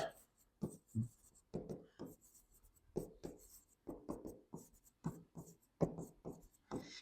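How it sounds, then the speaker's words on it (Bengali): Handwriting a math model, a quiet pen scratching in short bursts with pauses between strokes, close by and alone. "আমি যদি একটু মডেলটাকে একটু লিখি"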